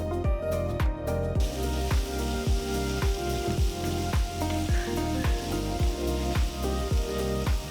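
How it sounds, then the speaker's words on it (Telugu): Finely chopped onion and two green chillies fry in a hot pan for a Gujarati curd side dish, a loud close sizzle overlaid with regular rhythmic scraping strokes of a stirring spoon. "ఇప్పుడు సన్నగా తరిగిన ఒక పెద్ద ఉల్లిపాయ ముక్కలు రెండు పచ్చిమిరపకాయలు వేసి ఒక నిమిషం పాటు కలుపుకోవాలి"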